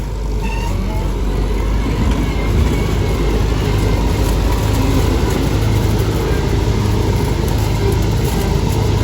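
A Volvo 800 combine harvester climbs a hill in third gear with a grain-filled hopper while threshing wheat, its engine roaring loud and steady from up close for the whole stretch, with no talk.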